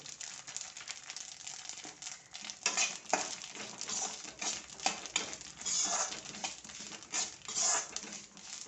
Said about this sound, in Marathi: चांगले शेकले गेले की त्याच्यातच आपण खसखस टाकायची आहे